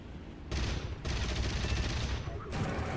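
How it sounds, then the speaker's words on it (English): Incoming gunfire strikes a fighter plane during a War Thunder simulator air battle: dense, continuous bursts of rattling shots that cut in and out in loud stretches, with engine drone beneath. "Oh, I'm under fire."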